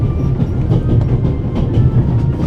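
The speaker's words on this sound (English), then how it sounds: "Oh, train sounds." A train rolls along in the video game The Raven: Legacy of a Master Thief, its wheels clattering in a loud, steady rhythmic clickety-clack over a deep rumble, with no voices.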